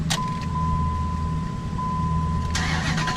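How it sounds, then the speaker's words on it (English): A Ram 1500 pickup with a 5.7 Hemi V8 and a timing chain rattle cranks and catches, its steady engine running close by with a sharp, louder surge near the end. "Start her up."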